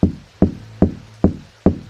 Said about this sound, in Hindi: पहले मैं गेट पर नॉक करता हूँ, हो सकता है कोई अंदर हो